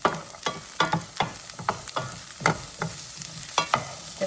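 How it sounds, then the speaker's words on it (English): Onion and garlic sautéing in a frying pan, a close sizzle punctuated by repeated scraping and tapping strokes of a utensil in an uneven stirring rhythm, with no voices. "I'm just gonna go ahead and saute the onion and garlic just until the onion becomes translucent."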